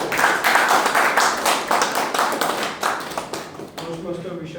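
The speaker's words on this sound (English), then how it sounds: "With a big round of applause, let us call upon speaker number one, Toastmaster Vishal." A small group claps in an uneven patter of hand claps at a Toastmasters club meeting. The clapping fades near the end, and a voice speaks.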